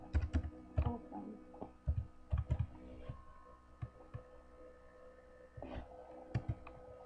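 Code being typed on a computer keyboard, irregular clusters of close key taps and clacks with pauses in between over a faint steady hum.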